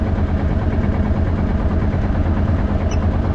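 A boat engine on a small fishing boat hauling lobster pots runs at a steady idle, a loud, continuous low rumble with even vibration and no break.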